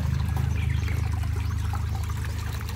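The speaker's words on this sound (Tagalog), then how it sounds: "Sarap pakinggan ng tubig ah." Fresh mountain water flowing near a shrine on Bisha Mountain, a steady close trickling and pouring stream that continues without a break from start to end, with no voices.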